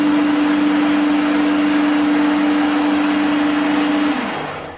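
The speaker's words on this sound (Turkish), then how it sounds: "Teli çıkartıyorum, kola basıyorum. Makine zaten kendi kendine gidiyor." A drain cleaning machine runs to clear a clogged toilet, its motor giving a loud, steady whirring drone with a constant tone for about four seconds before winding down.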